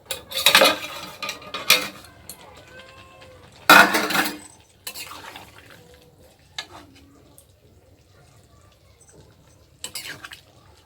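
A metal cooking pot holding pointed gourd and eggplant with fish-head greens gets its lid set on, several loud clanks and scrapes of metal against metal, then quieter clinks spread out with gaps of near silence.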